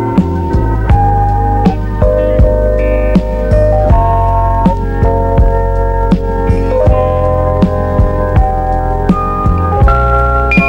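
A Fender Rhodes electric piano plays sustained chords and single notes with vibrato that goes from light to heavy, each key strike sharp and close, the tones ringing warmly in a quiet studio.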